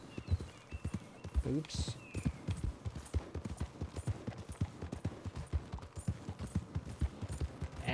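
In the video game Red Dead Redemption 2 on Xbox One X, a horse's hooves clip-clop in a quick, steady galloping rhythm close by, with a brief spoken word and light background sounds over them.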